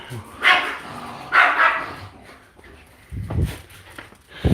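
Dogs barking indoors, a few close yips and barks spread across the moment, with a person talking nearby.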